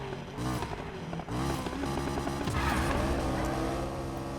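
McLaren 570S in Need for Speed Payback accelerating hard on track, a loud engine roar climbing in pitch through gear changes with tire squeal and skidding, close and without talk.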